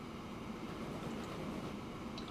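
A train running in the Transport Fever simulation game, a steady, continuous rumble and rolling drone with no break, moderately quiet and without talk.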